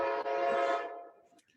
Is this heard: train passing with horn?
yes